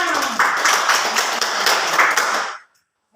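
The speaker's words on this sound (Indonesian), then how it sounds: "Tepuk tangan." A group claps hands together in a quick, dense burst for a couple of seconds, then stops abruptly.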